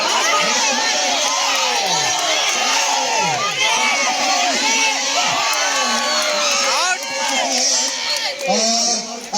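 A loud crowd of adults and children shouting and cheering at a village pot-breaking (matka fod) contest, a continuous dense roar of overlapping voices and whoops close by.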